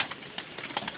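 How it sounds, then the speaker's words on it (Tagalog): A pigeon coos softly in short, repeated low murmurs over a faint background hiss, with no talk. "Yung unang kalapati."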